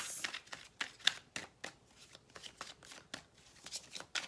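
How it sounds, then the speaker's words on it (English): A deck of tarot cards is shuffled by hand close up, a run of crisp riffling and slapping bursts in an irregular rhythm that keeps going for several seconds, with no talking. "Just a little bit more shuffling on camera."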